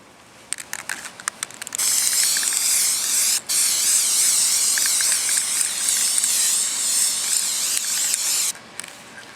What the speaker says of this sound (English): I'm going to start spraying some more